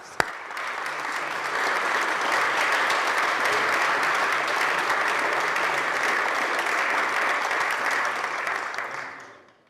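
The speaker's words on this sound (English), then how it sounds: "Let's give them a round of applause, ladies and gentlemen, please" A large audience at a formal floor session applauds steadily, a dense, loud wash of clapping that holds evenly for several seconds before tapering off at the close.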